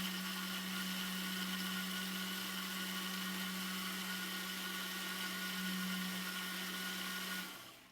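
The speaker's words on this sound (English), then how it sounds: "then we're going to be blending the garlic and the ginger together." Electric blender running steadily as it purees garlic and ginger with a little water for a health drink, a constant motor whine with no pauses, then cutting off abruptly near the end.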